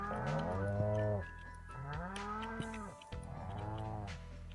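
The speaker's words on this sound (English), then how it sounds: "So first we say hello to all of our moo cows." Cows mooing on a Stardew Valley farm, three long, loud moos in a row, each drawn out and sliding in pitch, close by with no talk over them.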